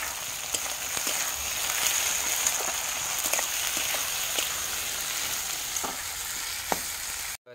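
Meat sizzling and frying with spices in a pan, a steady bright crackle with occasional stirring clatters throughout, close and continuous, no voices.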